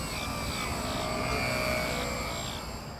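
A PA AMR 60 biplane model aircraft flies overhead, its engine giving a steady, continuous drone with a faint high whine that holds level throughout, with no voices.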